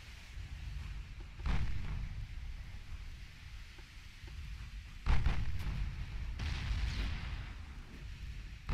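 12-inch naval guns firing in the Ultimate Admiral: Dreadnoughts naval game, two deep, rumbling cannon booms spaced a few seconds apart over a steady low wash of sea and wind ambience, moderately distant.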